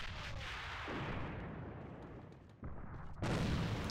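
A grenade explosion in the video game AVA, booming blasts with a low rumbling tail and a sharp heavy burst near the end, heard amid other game action.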